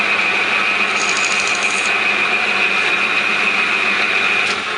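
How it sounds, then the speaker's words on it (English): A lathe runs steadily in a workshop while a wooden spinning top is turned, giving a continuous mechanical whir with a high whine, plus brief scraping of a tool against the piece. "We're going to turn our lathe on"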